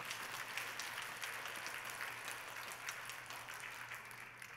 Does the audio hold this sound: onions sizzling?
no